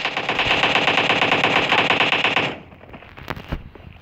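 Sustained automatic gunfire from PUBG Mobile, loud and dense for about two and a half seconds, then stopping abruptly, followed by a few scattered distant shots and clicks.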